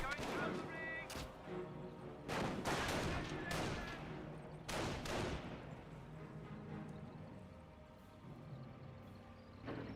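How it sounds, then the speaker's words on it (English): Distant booms and sharp volleys of gunfire from Company of Heroes combat, likely including mortar fire, come in repeated bursts under quiet background battle noise. "I thought I heard a mortar firing away over here"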